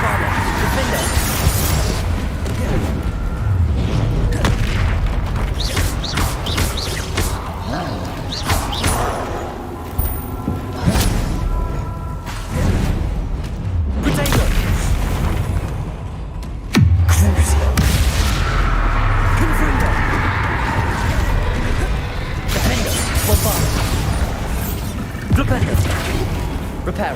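Spell explosions from the video game Hogwarts Legacy, with repeated booming blasts, crashes and shattering debris over combat effects and a spoken voice, ending in a heavy low impact partway through.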